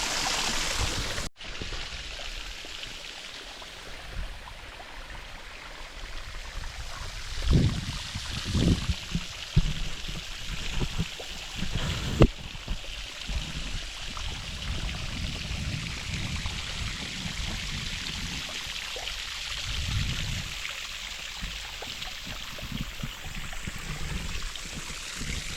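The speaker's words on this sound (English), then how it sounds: "Cool little stream. It runs all over the rocks and back down to where those caves are at." A small stream runs over rocks near caves and a waterfall, a continuous, close babbling rush of water that stays fairly even throughout, with no voices heard.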